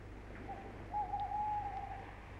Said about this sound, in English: The owl hoots darkly.